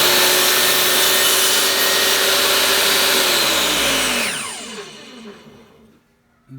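A table saw blade cuts through a wood offcut, making a loud, steady whine and rasp over several seconds. The tone then drops away as the blade spins down, leaving near silence.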